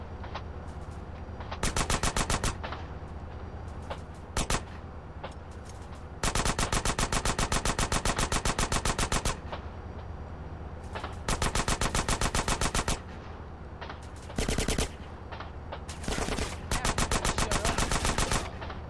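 Automatic gunfire from a weapon in GTA San Andreas Remastered, fought against military soldiers: loud rapid bursts of two to three seconds, separated by short gaps, with one long sustained volley in the middle and no talking.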